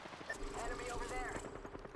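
Rapid bursts of automatic gunfire from an Apex Legends match crackle over a busy game soundscape with whooshing effects, steady and fairly loud for two seconds.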